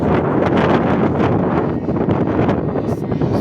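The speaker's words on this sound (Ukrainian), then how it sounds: "Трохи вітряно, але отак." Strong wind buffets the microphone in a constant, loud rumble with gusty roaring throughout, in a farm field during rapeseed sowing.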